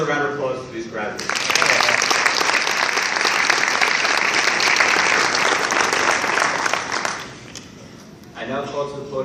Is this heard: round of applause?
yes